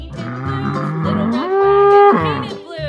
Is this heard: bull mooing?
yes